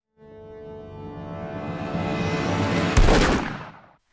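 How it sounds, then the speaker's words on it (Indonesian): A gunshot rings out in an action film as a woman shoots a shop clerk, one sharp loud crack near the end cutting through a swelling dramatic score, with no talk. "Angela menembak petugas toko demi menghilangkan saksi"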